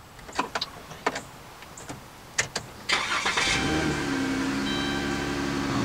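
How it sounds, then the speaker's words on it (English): A 2014 Dodge Grand Caravan starts with a newly duplicated key: a few clicks of the key and ignition, a brief cranking whir, then the engine catches and settles into a steady close-up idle hum. "what we're going to do is take the other two and start the car."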